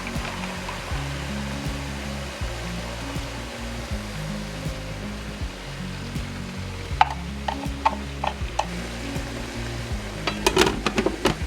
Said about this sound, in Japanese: これタレ入れて蒸し焼きにしてきます